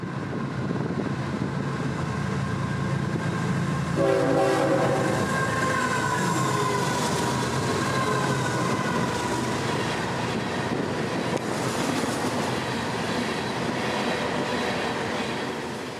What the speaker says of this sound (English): our northbound would appear, calling us train 292 and absolutely ripping through town